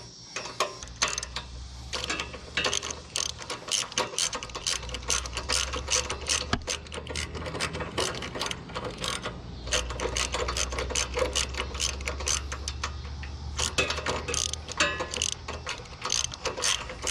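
A ratchet tightens a part on a woodsplitter engine with rapid, steady clicking that runs continuously and close up, in quick bursts of pawl ticks with brief pauses between strokes.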